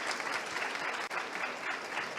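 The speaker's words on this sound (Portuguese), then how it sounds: "Obrigada aos meus amigos da direita que puxaram agora as palmas." A crowded audience applauds steadily at a talk during the Bienal do Livro Rio 2023 book fair, a dense, continuous wash of clapping that stays loud throughout and dips only for a moment midway.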